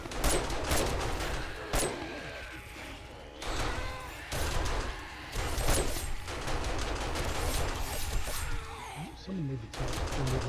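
Automated turret in the survival game 7 Days to Die fires sustained rapid bursts, with dense machine-gun rattles broken by brief pauses, loud and close, while someone talks over the shooting.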